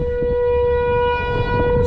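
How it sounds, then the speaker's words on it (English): A tornado siren wails in a steady, loud, sustained tone that persists for the whole moment, heard outdoors with faint background noise. "tornado sirens going off"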